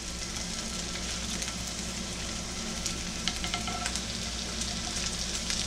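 Burgers sizzle loudly and steadily in a hot frying pan, a constant crackling hiss with occasional sharper pops.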